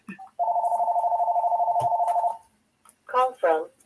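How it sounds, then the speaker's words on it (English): A telephone rings indoors with a steady electronic warble lasting about two seconds, then stops; brief speech follows after a short pause. "Sorry, I forgot about that phone."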